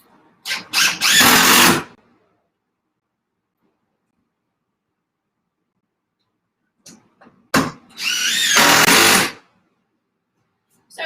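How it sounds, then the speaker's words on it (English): A power drill tightens screws into a wooden greenhouse frame, two short whining bursts separated by a long silence, each rising sharply and running loud and close for about a second or two. "I'm going to kind of square this up and then tighten those screws down"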